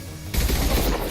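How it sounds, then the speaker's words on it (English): Rapid automatic gunfire from a Mass Effect firefight with Seeker swarms, a dense burst of shots that bursts in suddenly after a quieter lead-in and stays loud. "Taking heavy fire!"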